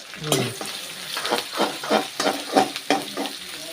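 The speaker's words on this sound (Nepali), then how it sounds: "यो चाहिँ प्याज पनि भुट्यो हो दाइ" Onions sizzle in a hot pan while being stirred, with repeated scraping strokes in a steady rhythm, close and fairly loud.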